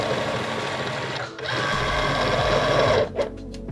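A Momento cutting machine draws its cutting mat in between the pinch wheels with a steady, close motorized whir. The whir pauses briefly partway through and ends in a few short mechanical clicks.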